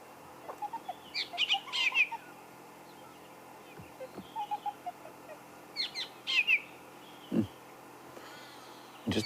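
A fork-tailed drongo calls from just overhead on an African safari, imitating kingfishers and a francolin with scattered sharp whistles, chirps and harsh notes in short bursts over a faint outdoor background.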